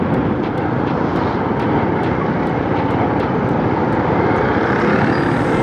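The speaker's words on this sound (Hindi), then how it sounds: "फिर हवा बहुत तेज़ हो गई है।" Strong wind roars steadily across the microphone while riding a Honda CB150F motorcycle near Quetta, a dense continuous rush with an engine drone beneath and no speech.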